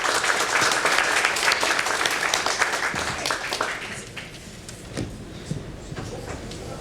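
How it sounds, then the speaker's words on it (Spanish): Warm applause from a forum audience after a panel session rolls on for a few seconds, then thins out into a few last claps. "por favor démosles unos aplausos."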